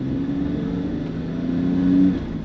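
A 1991 BMW M5 E34 pulls hard from low revs, its engine drone climbing steadily in pitch and peaking before easing off at a shift, heard from inside the car with no voice over it.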